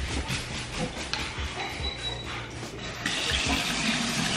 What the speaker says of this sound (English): Gotta wash my hands first.